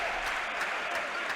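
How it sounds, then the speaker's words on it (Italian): Applause for the two volleyball teams at a joint practice between WithU Verona and Itas Trentino, a short burst of steady, dense clapping filling the hall. "Applausi per le due squadre"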